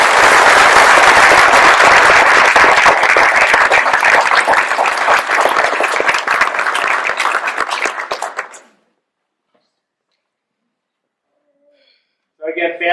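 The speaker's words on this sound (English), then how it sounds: "So I would just ask that we all give her a round of applause." Loud sustained round of applause from an audience at a Minnesota National Guard ceremony, dense clapping that fades out after about eight seconds, followed by silence and a brief voice at the end.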